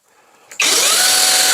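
A cordless battery-powered chainsaw with a thin chain and a high-speed motor whirs up sharply, going from near silence to a loud, steady whine that holds close and alone.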